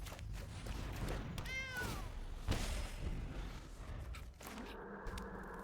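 A cartoonish cat meow with a rising then falling pitch rings out once in the Magic the Gathering Arena digital card game, sitting over a low ambient game hum, with a soft thump and a muted tonal effect afterwards.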